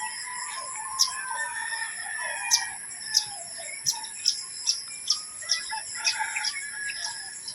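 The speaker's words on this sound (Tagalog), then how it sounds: "Iba't ibang uri ng ibon yung maririnig mo dito." Roosters crow repeatedly at dawn with clucking fowl and other birds calling around a rural home, sharp calls spaced every second or so, fairly near, with no talk.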